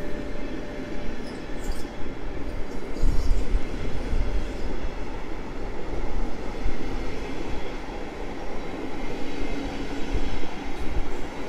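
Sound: Koleje Mazowieckie passenger train passing

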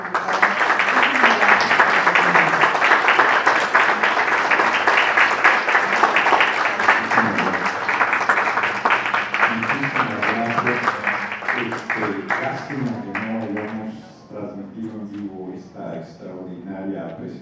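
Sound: audience applause welcoming a speaker

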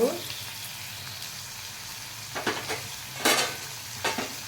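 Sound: stirring tomato and curry leaves in a frying pan

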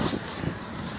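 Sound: wind

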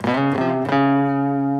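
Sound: electric guitar note ringing long without muting

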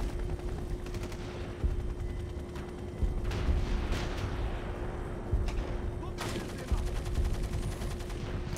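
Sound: gunfire in the video game Splinter Cell: Double Agent

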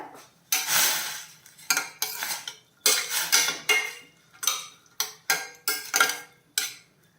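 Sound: stirring chow chow with water and salt in a pot

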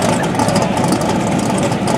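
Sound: Mustang drag car engine revving as the driver pats the gas

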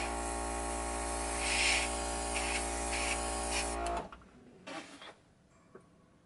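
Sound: airbrush spraying paint on OO gauge model

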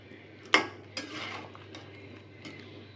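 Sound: beef being stir-fried with cucumber

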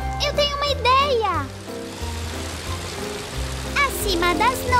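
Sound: rain falling in a cartoon

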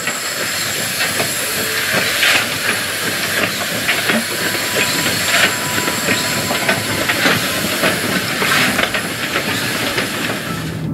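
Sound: steam locomotive shunting

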